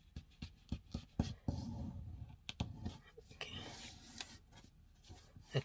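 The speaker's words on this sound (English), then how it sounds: "and press down the paper." Paper being pressed down and creased while folding a paper airplane, a run of close, dry rubbing and scraping strokes with sharp taps, and a brief spoken word.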